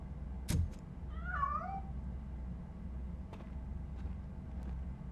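A single short meow rises and falls over a low rumbling background hum inside Robocop Rogue City, preceded by a sharp click and followed by faint ticks.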